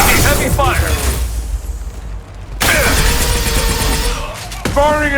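Gunfire and explosions from the Mass Effect video game, loud and close, with bursts of shots and crashing blasts, a brief lull, then more firing, with voices calling out over the battle.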